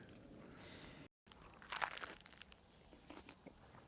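A crunchy bite into crispy meat, loud and close, with a bright crackling burst of crunching and chewing in the middle of a quiet stretch.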